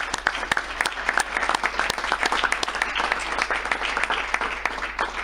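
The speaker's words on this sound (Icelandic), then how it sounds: "gefðu þau gott klapp" An audience at a competition results ceremony claps for the prize winners, dense sustained applause from a crowd with scattered sharp individual claps throughout.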